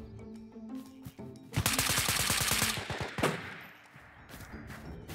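Gunfire in the VR shooter Ghosts of Tabor: a fast automatic burst of a dozen or more sharp shots, loud and close, followed by a single heavier shot and fading echo.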